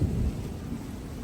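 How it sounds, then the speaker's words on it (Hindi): Rain begins to fall outdoors at a rural home with goats, with a loud low rumble of thunder at the start fading into steady rain. "बारिश शुरू हो गई।"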